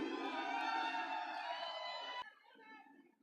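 An audience at a stage event for a Kannada film crowd cheers and shouts loudly and steadily for about two seconds, then the noise cuts off abruptly and only a faint murmur remains.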